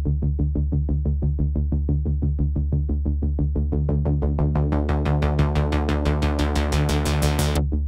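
A pulsing synth patch programmed in the Vital synthesizer plays steady repeated notes over a sustained low bass, the tone gradually opening brighter and fuller until it cuts off near the end.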